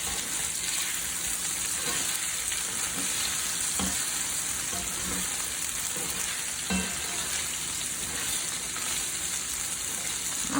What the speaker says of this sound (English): she says to toss it around with a spatula and cook for 3 to 4 more minutes.